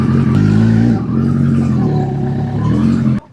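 A Kawasaki ZX-14R sport motorcycle engine revs close and loud, a steady throaty drone that dips briefly near the start, swells again, then cuts off abruptly at the end.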